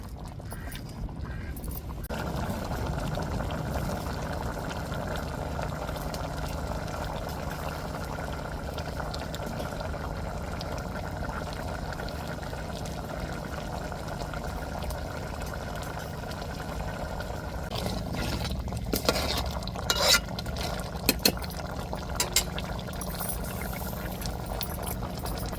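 Prawn curry bubbles steadily in a pot on the stove, with continuous simmering and gurgling throughout and a few brief clinks and clatters toward the end, no talking.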